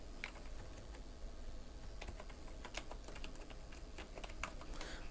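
Fingers tap steadily on a computer keyboard while typing text in Photoshop, a quiet run of light, irregular clicks over a faint hum with no talking.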